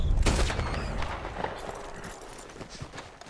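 Gunshots fired at rabbits in the video game Red Dead Redemption II, with several sharp close cracks in quick succession over a rumbling game background.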